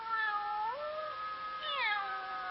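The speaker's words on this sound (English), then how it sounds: "the cute little kittens in his own house" A cartoon kitten meows in long, drawn-out, wavering cries, two rising and falling calls heard clearly with no talking.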